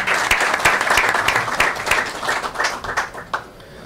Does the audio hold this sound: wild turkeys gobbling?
no